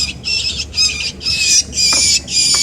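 A small bird caught by a cat squawks in a rapid series of loud, harsh, shrill calls, close by, about six bursts in quick succession with no talking.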